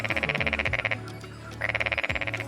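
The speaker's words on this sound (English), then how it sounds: "The green paddy frog is another common amphibian species in Singapore." A green paddy frog in Singapore calls in two rapid bursts of loud, pulsing croaks, each a quick rattling series close to the microphone, separated by a short pause.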